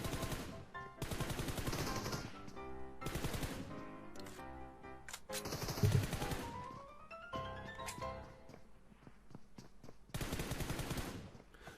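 A shooting video game fires bursts of rapid automatic gunfire, several long volleys broken by short gaps and single thuds, steady and dense, with no voices over it.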